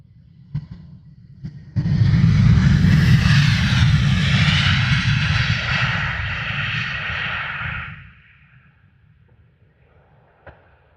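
A Wizz Air airliner arrives at Luton Airport. Its engine roar swells quickly, holds loud for several seconds, then fades away, with quiet surroundings before and after.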